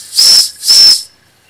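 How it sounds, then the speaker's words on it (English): A Wilesco D6 model steam engine releases two short, sharp bursts of hissing steam with a high whistling tone, close and loud, separated by a brief pause. "that steam can burn you coming out of there"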